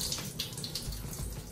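A steady stream of water runs continuously from a faucet in a modern Japanese bathroom, close and even, with a faint hissing spray and no voices.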